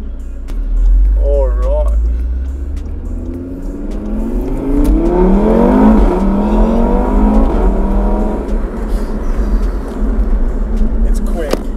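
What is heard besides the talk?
Stage 3 Audi RS3 car engine accelerating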